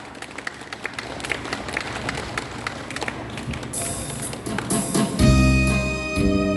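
An audience at a Saturday market concert claps along, first scattered taps and steady beats, then swelling into fuller rhythmic clapping as music starts up loud near the end.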